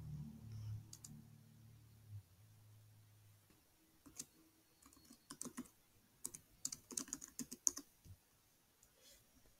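Typing on a computer keyboard in bursts of quick, light clicks that grow busier toward the end, with a faint low hum early on and no speech.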